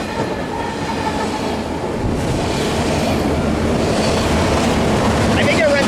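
A long freight train led by CSX and Norfolk Southern locomotives rolls past at Fullerton, its loud, steady rumble of wheels and cars close by and continuous throughout.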